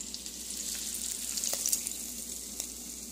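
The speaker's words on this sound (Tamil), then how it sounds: "நம்ம தாளித்ததை பொங்கலில் சேர்த்துடலாம்." Hot tempering poured into rava pongal sizzles steadily, a soft continuous frying hiss with faint stirring clicks, heard alone without talk.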